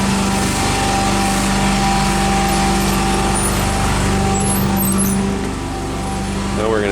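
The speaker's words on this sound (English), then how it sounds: "Jared's getting the truck fired up." A cleaning truck's engine runs loudly and steadily in a yard, a constant close mechanical drone with a brief dip near the end, while a person talks over it.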